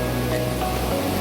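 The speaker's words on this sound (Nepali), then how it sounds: "फेरि बाढी आयो हेर्नु खोलाबाट पानी बगेको" Floodwater from a swollen river rushes past in a continuous, dense roar, steady and fairly loud with no pauses or voices.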